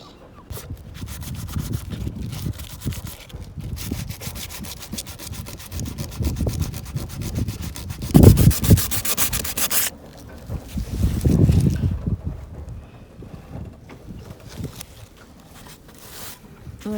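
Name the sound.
sanding fiberglass on a boat to remove the white layer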